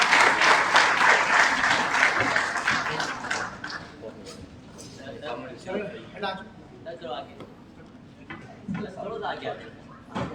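Loud audience applause at an awards ceremony in a Hyderabad, Sindh hotel hall, a dense wash of clapping that fades after a few seconds as a presenter speaks over the thinning claps.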